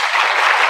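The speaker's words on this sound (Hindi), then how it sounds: "इसलिए अपने लिए ताली बजाओ।" An audience at a college and school talk applauds themselves with a brief, dense wash of many hands clapping together at steady volume.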